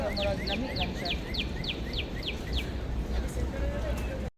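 Birds in New York's Central Park Conservatory Garden give a quick series of about ten sharp, evenly spaced chirps, then softer calls, heard over constant low outdoor rumble until the sound cuts off.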